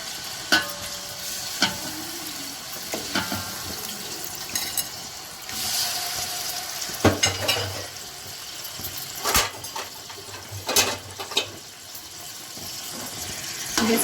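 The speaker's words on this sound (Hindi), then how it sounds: "अब साथ ही मैं इसमें शामिल करूँगी चिकन, क्योंकि चिकन को मुझे अच्छे से सबसे पहले फ्राई करनी है।" Chicken frying in a pan for Afghani kabuli pulao, with a continuous close sizzle, intermittent stirring clatter and a few louder scrapes and knocks, plus a brief run of pouring or running water.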